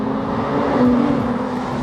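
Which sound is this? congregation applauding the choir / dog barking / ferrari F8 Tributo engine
ferrari F8 Tributo engine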